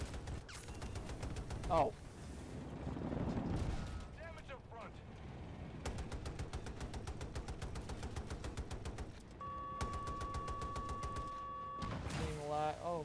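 Full-auto gunfire in Battlefield 2042 on the Kaleidoscope map, with rapid rhythmic bursts of shots alongside explosions and battle noise, and players talking briefly over it.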